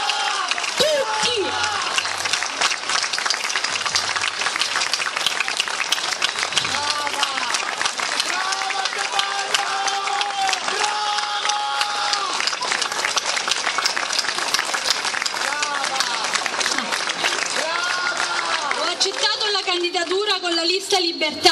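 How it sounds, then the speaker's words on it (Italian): An audience at an outdoor Italian political rally in San Donato applauds in a sustained, even patter of many hands lasting about twenty seconds, with a voice speaking over the clapping and a speaker's voice emerging clearly near the end. "E tutti dovete battere le mani, perché gli è dovuto"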